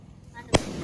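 A single sharp Diwali firecracker bursts in a village celebration, one loud close crack that fades quickly.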